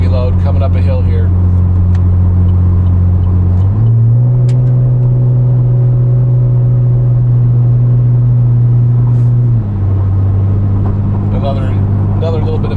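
A Camaro V6 with an MRT Version 1 axle-back exhaust cruises uphill at low RPM under heavy load, giving a loud, deep, steady droning rumble. Its pitch steps up for several seconds, then settles back down.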